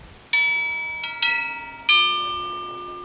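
A monastery bell at Meteora in Greece is struck with an iron hammer, giving three clear ringing strikes with a quieter tap between, each tone sustaining and overlapping the next.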